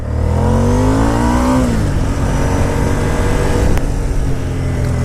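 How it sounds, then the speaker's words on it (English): A Ducati motorcycle rated at 103 hp revs hard and close, the pitch climbing quickly and then dropping to a steady, rough idle, with a dry-clutch clatter in the running engine. "I can't stand the dry clutch."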